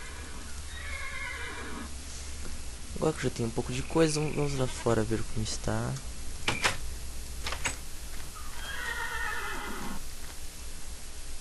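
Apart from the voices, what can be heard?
horses neighing in a modded video game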